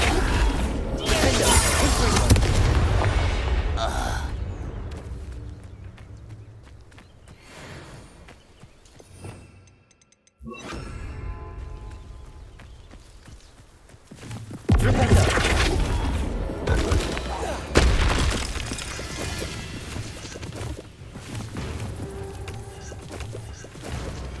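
Loud, booming spell explosions and crashes burst out in Hogwarts Legacy during combat, in heavy bursts separated by a quieter stretch in the middle.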